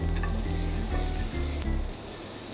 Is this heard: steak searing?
yes